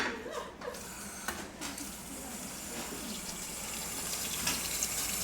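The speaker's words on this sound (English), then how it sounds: "we're going to fill that up with filtered water" Filtered water runs from a tap into a tea pot for masala chai, a steady splashing gush that stays fairly quiet and even throughout, with no talk over it.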